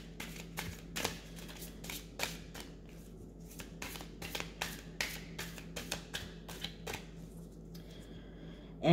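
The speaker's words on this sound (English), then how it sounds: "I am shuffling the cards as much as I can to make sure that I get them really shuffled." A deck of cards shuffled by hand: soft riffles and sharp slaps repeat irregularly, close and fairly quiet, over a low steady hum.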